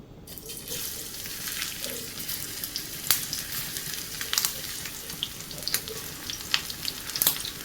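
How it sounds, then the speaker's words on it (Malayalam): Okra (ladies finger) slices dropped into hot oil in a pan fry with a loud, crackling sizzle, scattered sharp pops and bursts running throughout over a steady hiss. "നമുക്ക് വെണ്ടയ്ക്ക എണ്ണയിലേക്ക് ഇട്ട് കൊടുക്കാം."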